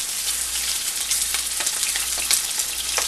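Chicken for garlic chicken fries in hot oil with a dense, bright, steady sizzle up close, with a few soft stirring scrapes and no voices.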